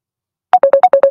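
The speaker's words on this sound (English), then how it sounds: "It's still ringing, but the person hung up and the phone's not connected." Telephone ringback sounding as a series of six short, evenly spaced electronic tone pulses, clear and close, starting after a moment of silence.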